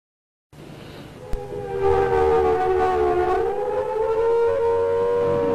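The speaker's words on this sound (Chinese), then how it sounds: "拉警报了，快点快点，快穿衣服" An air raid siren wails in wartime Hong Kong, beginning abruptly, then swelling into a loud, sustained, slowly rising and falling tone that fills the whole stretch.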